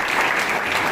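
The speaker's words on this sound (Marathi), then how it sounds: "एकदा जोरदार टाळ्या माने साहेब." A short burst of dense, even applause from an audience at an Independence Day event at a de-addiction centre, steady clapping with no pause.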